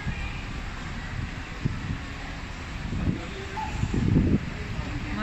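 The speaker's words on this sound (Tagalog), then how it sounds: "Mahangin, saka umuulan." Wind buffets the microphone outdoors in the rain, a steady rushing roar with low gusty thumps that swell near the end.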